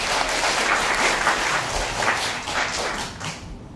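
An audience at a Korean literary concert claps, a dense burst of applause that rises in a steady patter and then slowly thins toward the end, with no voices over it.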